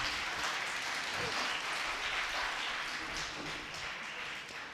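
A lecture audience at a Tamil literature talk gives dense, continuous applause. Steady and fairly loud throughout, it tapers slightly at the end.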